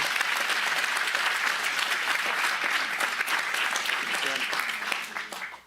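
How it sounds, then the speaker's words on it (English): Applause from an audience at a county supervisors' regular meeting, honoring intervention counselors; steady, dense clapping fills the room throughout and fades out at the very end. "Give them a round of applause"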